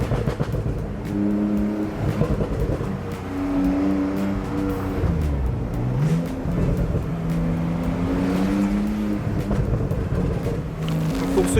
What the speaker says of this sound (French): c'est quoi le bruit exact que t'entends là des pots là?